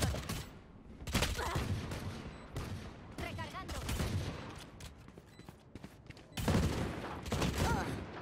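Rapid bursts of gunfire from the video game Counter-Strike crackle in clustered volleys with short pauses between, moderately loud throughout, with faint game sounds in between.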